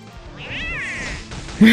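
A loud, drawn-out cat meow in the mobile RPG Outerplane, with a rising and falling pitch, followed by a sudden sharp sound at the end.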